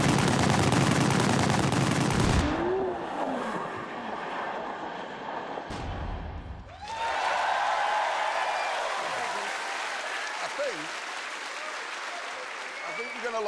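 Loud bursts of pistol gunfire from The Grand Tour video game crackle in dense volleys, separated by quieter stretches where voices talk.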